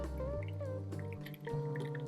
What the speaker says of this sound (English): we're going to bring it over here and pour it into the baking dish